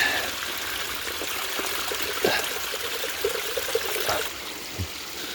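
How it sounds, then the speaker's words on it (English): Fresh rainwater runs down a mountainside as a small stream, a steady close trickle and splash with occasional brief knocks and no talking. "It's been cascading down the mountain, picking up lots of minerals and probably viruses along the way."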